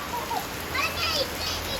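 Rain falls outside in a steady hiss of drops, with children's voices chattering lightly over it.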